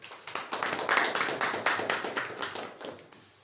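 Listeners at a motivational session clap to welcome Professor Aamir Khan to speak, a moderate burst of many hands clapping unevenly that tapers off over a few seconds.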